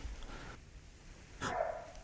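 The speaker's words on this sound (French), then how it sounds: "Il y a un chien." A dog barks in a large abandoned manor: one short bark near the start, then a louder, sharper bark further off, with faint rustling between and no talk.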